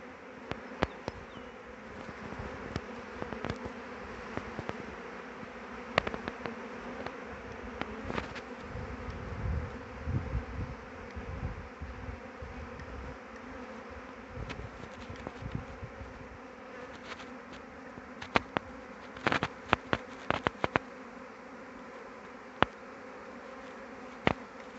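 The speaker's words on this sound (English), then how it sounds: "There's a lot of bees still on there." Bees buzz around a swarm in a dense, continuous drone outdoors, with occasional louder passes as individual bees fly close.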